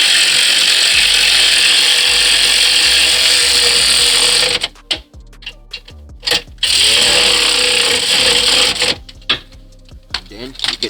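A power wrench tightens brake bolts during a rotor and brake pad change, buzzing loudly in a sustained burst and then again in shorter bursts after a pause, with a voice talking nearby.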